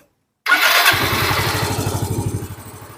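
A Yamaha scooter with its body panels removed starts up after a short silence and settles into a smooth, even idle, close and loud, the engine's rapid steady pulse heard alone.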